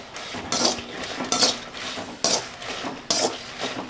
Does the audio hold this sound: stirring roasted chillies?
yes